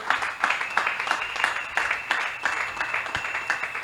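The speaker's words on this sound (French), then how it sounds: "Acclame pour le roi des rois bien-aimé." A church congregation claps in steady rhythmic applause during a healing testimony, moderately loud and continuous, with a faint sustained tone underneath.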